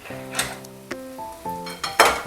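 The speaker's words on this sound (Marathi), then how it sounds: "खाली उतरवून घेऊयात कढई" A metal kadhai of paneer bhurji is lifted off the gas stove, giving a few clanks and clinks of pan and utensils against the burner, with brief ringing metallic tones.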